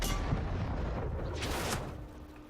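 Tank gunfire in World of Tanks during a battle involving a Black Prince tank, a deep booming shot with heavy low rumble that fades out over a couple of seconds, with a sharper impact crack midway.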